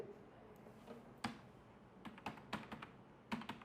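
Quiet typing on a computer keyboard, scattered single key taps and short bursts of clicks at an uneven pace, close and soft in a still room.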